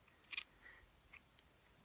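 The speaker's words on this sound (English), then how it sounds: "I will take my scissors here and we're going to disconnect" Scissors snipping yarn off a pom-pom maker, a few quiet, sharp clicks spread over under two seconds against a near-silent background.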